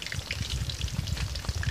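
Pumpkin pieces sizzle and crackle as they deep-fry in hot oil, a dense, continuous spitting sound up close.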